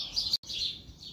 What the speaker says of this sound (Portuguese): agora ao som dos passarinhos, porque tá bem cedo